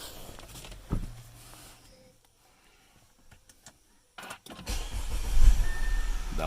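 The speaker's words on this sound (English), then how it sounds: "now we're gonna turn the car on" A German car being started: a mechanical whir and clunk, then a quieter pause before the engine catches and settles into a louder steady idle nearby.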